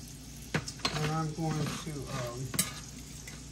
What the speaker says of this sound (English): This is olive oil and butter. That's how I'm cooking them.